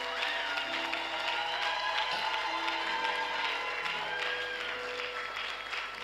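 A church congregation applauds and cheers steadily throughout, a dense, sustained wash of clapping and crowd voices at fairly even loudness.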